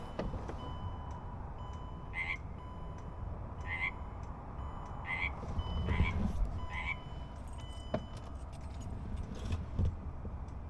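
A toad croaking outside at night, five or six evenly spaced rasping calls heard from indoors at moderate distance over a low background rumble, with a faint jingle of keys.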